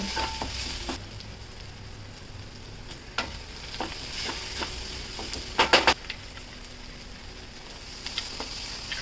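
Dill greens and potato sautéed in butter for a dry garlic dill vegetable dish, with a steady close sizzle and occasional spatula scrapes and taps against the pan, a brief cluster of clinks midway, no voices.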